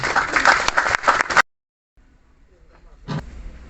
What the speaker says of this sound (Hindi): उनके स्वागत के लिए एक बार जोरदार तालियों का।